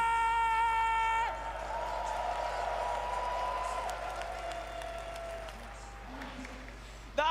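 A large crowd applauds at a Dota 2 grand finals, a dense wash of clapping and cheering that runs for several seconds and slowly fades, while a voice speaks over it.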